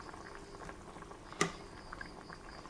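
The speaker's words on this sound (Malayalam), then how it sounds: "കറി കുമ്പളങ്ങ നല്ലോണം തിളച്ച് വന്നിട്ടുണ്ട്" Ash gourd curry bubbling in a pot in a Kerala-style kitchen, a faint low simmer of popping bubbles with one brief louder knock partway through, quiet and close, with no voices.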